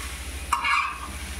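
Okra dry-roasting in a pan gets a brief scrape as it is stirred, one short clatter over a low steady background hum, close and quiet.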